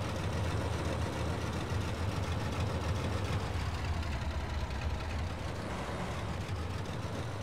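A steady, continuous tractor engine drone, an Oliver model from the 1980s working fields in Farming Simulator 22, holds a low rumbling hum at even loudness throughout, with no voices.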